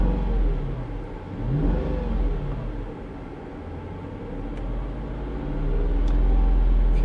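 A Mercedes-Benz W211 E500 wagon engine revs and drones steadily with a deep rumble, rising and falling in intensity, close by with no talking; the engine vibrates between 2,000 and 3,000 RPM.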